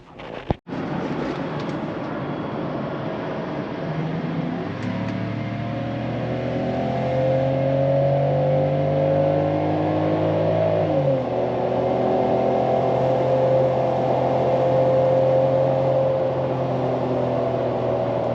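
A BMW E83 X3 M54 engine drones loudly and steadily uphill, pitch rising slowly as it strains under load, then dipping with a gear change before climbing again.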